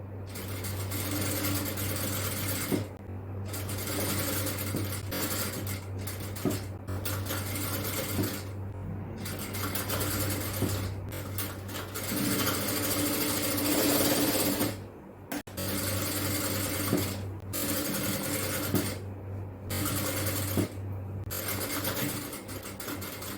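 A sewing machine stitches a frill onto a nighty, a fast steady mechanical whir running in long bursts with brief pauses between passes, close and continuous.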